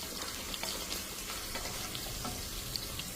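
Onions and green chillies frying in a pan, a fairly quiet, even crackling sizzle with faint scattered pops and light stirring throughout, no one speaking.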